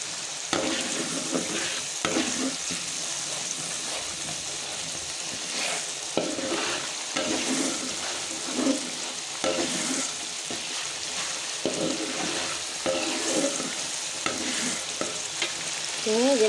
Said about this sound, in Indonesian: lalu kita masukkan bumbunya. Kita tumis hingga harum.